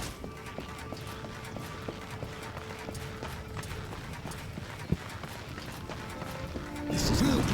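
Horse hooves gallop in Darksiders 2, a steady rapid clip-clop running continuously under game ambience, ending with a louder crash.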